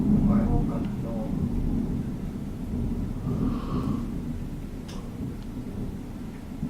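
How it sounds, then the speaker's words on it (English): A thunderstorm over Beijing, China, seen from the JW Marriott hotel, fills the air with a continuous loud, low rumble of thunder and steady rain, with a few faint sharper cracks. "that is the lightning and thunder from Beijing, China"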